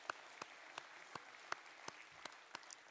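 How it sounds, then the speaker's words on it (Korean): Congregation applauding during a Sunday worship service at Daegu Hana Church: faint, sparse clapping with distinct separate claps at a slow, uneven rhythm, quiet and distant-sounding. "이 모든 일들을 있게 하신 하나님께 최고의 영광의 박수를 올려드리겠습니다"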